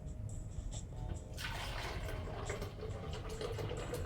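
Pineapple, honeydew and ginger juice is poured into a container, a faint, steady liquid stream that starts partway through and keeps going under a quiet background hum.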